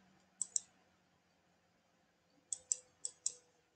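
A computer mouse clicks sharply up close in a quiet room, a quick double click followed after a pause by four evenly spaced clicks.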